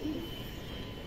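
Indian kaldom pigeons, a Nazra-type highflyer pair, coo softly through a second of low, steady murmuring under a constant background hum.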